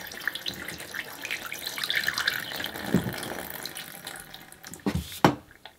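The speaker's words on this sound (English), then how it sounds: "We want to test the urine drain for any leaks" Water is poured into the urine drain of an off-grid Cinderella incinerator toilet in a steady splashing stream that trickles and gurgles, ending with a few sharp knocks and a quick fade to silence.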